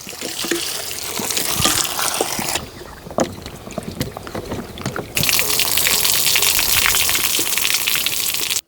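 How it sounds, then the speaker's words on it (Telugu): Vegetables for an Andhra mixed-vegetable pulusu are rinsed under running water, a steady gushing splash that runs almost the whole time, with louder, fuller bursts near the start and toward the end. No one talks. "మిగతా కూరగాయలు కూడా అన్నీ కడిగేసుకుందామండి."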